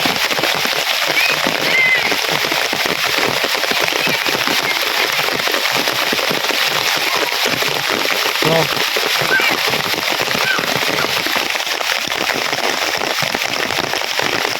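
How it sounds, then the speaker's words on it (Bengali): Heavy rain pours steadily in a dense, hissing roar that never lets up, after about an hour and a half of rain, with faint voices buried beneath it. "বৃষ্টি প্রায় ঘন্টা দেড় ঘন্টা ধরে শুরু হয়েছে কিন্তু অনেক শেষ হইতেছে না"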